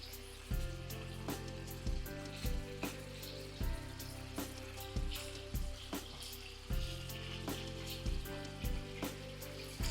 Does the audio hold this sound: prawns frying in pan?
yes